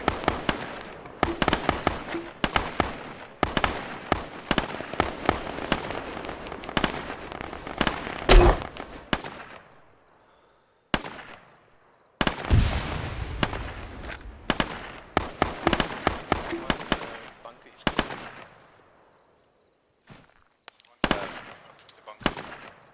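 Rapid gunfire during an Arma 3 video game training night, dense bursts of sharp shots crackling in long runs, then scattered single shots and short volleys separated by brief silences.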